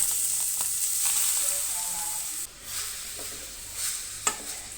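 Carrots frying in ghee in a pan give a steady close sizzle, with a few light clicks and scrapes as they are moved around.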